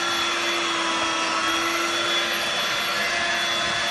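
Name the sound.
Hoover Dirt Devil Vibe stick vacuum cleaner running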